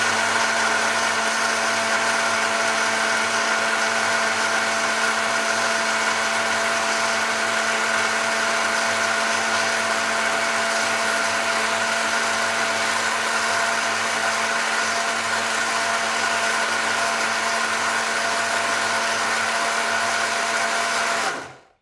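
A blender whizzing a frozen fruit smoothie runs as a steady, loud, close motor whine for about twenty seconds, then cuts off abruptly.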